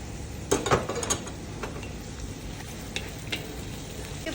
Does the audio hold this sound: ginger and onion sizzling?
yes